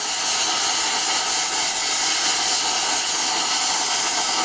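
A heat gun blows a steady, loud hiss of hot air, shrinking heat shrink tubing onto a nylon-braided audio interconnect cable, the airy roar holding constant throughout with no talking.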